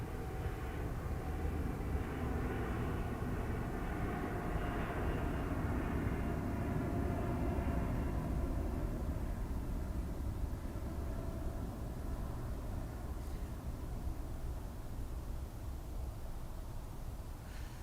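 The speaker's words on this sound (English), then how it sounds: "(330neo) outbound the far side. Unmistakable engine noise." Airbus A330neo jet engines departing Dublin Airport, heard from the far side as a steady, loud, continuous roar that holds for the whole stretch and fades slightly toward the end, with no talk over it.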